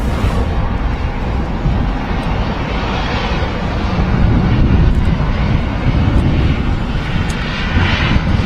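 Airliner taking off from a Manchester Airport runway, a loud steady roar of jet engines that swells slightly and stays continuous throughout, with no talk.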